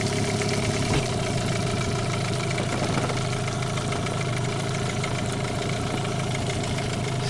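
A Gladiator 9.9 outboard boat motor runs steadily during break-in after warming up, a continuous droning, slightly knocking engine hum at constant low throttle, close and unbroken for several seconds.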